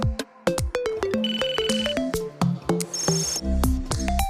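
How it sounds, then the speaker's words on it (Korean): A mobile phone ringtone goes off in an office meeting, a bright electronic melody of quick stepped notes and tones playing loudly and alone throughout. "누가 회의 시간에 휴대폰을 들고 옵니까? 누구예요? 어떻게 전화가 왔네?"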